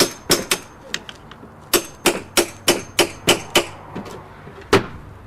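A wedge tapped into a chimney joint to hold lead flashing, a dozen or so sharp close metallic hammer taps in uneven bursts, some light and some firmer, with no talking.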